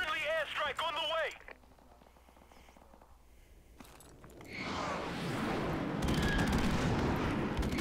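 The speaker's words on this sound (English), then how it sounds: "Friendly airstrike on the way." A friendly airstrike lands in a video game. A short voice is heard first, then after a quiet gap a roaring wash of explosions and crackling gunfire builds and carries on loudly.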